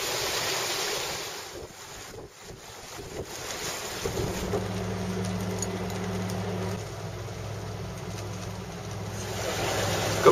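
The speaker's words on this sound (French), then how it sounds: "c'est donc au moteur qu'on est en train d'approcher de l'Islande" Low steady drone of a sailboat's auxiliary engine with a constant hum starting a few seconds in, under wind buffeting the microphone and washing water, at sea off Iceland.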